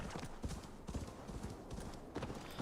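Horse hooves clip-clop in the PC video game Assassin's Creed Valhalla, a steady, rhythmic trot of fairly soft hoofbeats over a continuous layer of game ambience.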